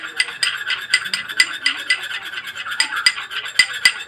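A face pack being stirred in a bowl, with repeated close clicks and scrapes of a spoon against the sides in a steady, busy rhythm and no talking.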